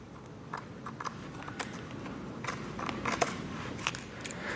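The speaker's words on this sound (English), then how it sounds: "we're going to cut the carpet to where the bottom corner meets the floor" Carpet being cut along the bottom edge of a marine-grade boat trailer bunk board, heard as faint, scattered snips and scraping clicks over a steady low background hiss.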